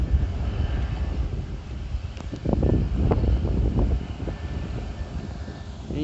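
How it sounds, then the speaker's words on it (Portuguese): Wind gusts roar across a sugarcane field during a mechanized harvest as a rainstorm closes in, a steady low rumble of buffeting with brief louder surges midway. "O vento tá vindo pra essa direção"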